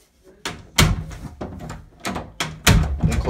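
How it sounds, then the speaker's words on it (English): A house door fitted with new hinges is swung and shut several times, giving a series of sharp wooden thunks and soft latch knocks at close range, with no speech. "And this door closes nicely too."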